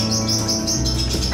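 A pair of lovebirds bathing together in a large water dish give a run of repeated high chirps, steady and close, with fluttery activity underneath.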